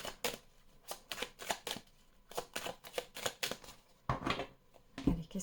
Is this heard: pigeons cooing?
no